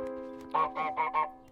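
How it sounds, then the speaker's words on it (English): A cartoon goose in Untitled Goose Game lets out four quick nasal honks in a row, close and fairly loud over a steady held musical tone. "I love the honking in the bottle."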